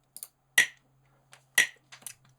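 Gap Click metronome app clicks sounding on the last 16th note of each count, appearing as a few short, sharp, bright ticks spaced about a second apart, with fainter softer clicks between them and no talking.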